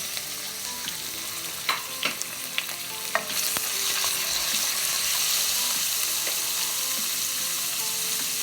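Pork dropped into a hot pan for pancit guisado, a few clattering utensil taps and stirring scrapes, then a loud, broad sizzle that swells and holds steady to the end.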